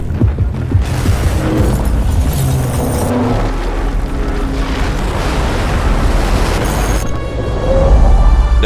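In a video game, a whole tower comes down once its supporting pillars are destroyed, giving a loud, continuous roar of rumbling debris and booming blasts that swells and shifts over several seconds.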